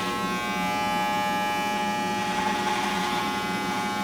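Electric hair clipper cutting hair with the blade laid flat during a cosmetology clipper cut, a steady close buzzing hum that runs without a break.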